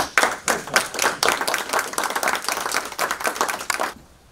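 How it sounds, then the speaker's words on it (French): An audience at a francophone cultural association gathering claps together, a brisk burst of hand claps rising and pulsing for about four seconds before stopping abruptly. "là aussi, nous devrions vraiment l'applaudir."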